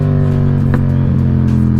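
A Yamaha MT-09 motorcycle engine runs steadily nearby with a low, harmonic-rich drone and a brief sharp pop or rev blip partway through, with no talking.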